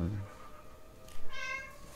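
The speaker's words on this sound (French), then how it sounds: "Miaou." A cat meowing in a video game, one short high meow standing out over a low steady game background, with no one talking.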